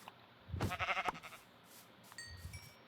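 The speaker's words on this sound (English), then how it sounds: "I am going to go quickly find some sheep" Sheep in the Minecraft video game give a short series of quavering bleats, fairly faint, followed by quieter game sounds and a thin tone near the end.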